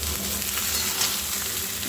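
Chopped onion fries with pointed gourd and ridge gourd in a pan, a continuous close sizzle with faint stirring.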